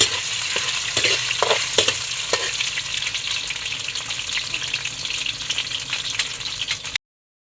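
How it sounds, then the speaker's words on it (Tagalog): Squid balls fry in hot oil with a loud, dense sizzle and a few sharp pops early on, and no voices. "Ayan na po at ipiprito na po ni Jampol yung squid ball."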